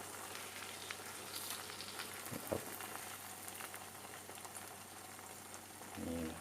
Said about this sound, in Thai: ทอดค่อยๆทอดนะเพื่อนๆ